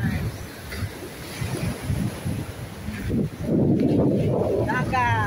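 Sea waves washing on a European shore with wind buffeting the microphone, a steady surf wash that swells louder in the second half while a person talks over it.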